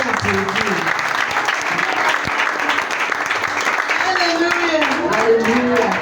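A church congregation applauds continuously at a worship service, dense clapping filling the room under a preacher's voice and a sustained sung or chanted tone.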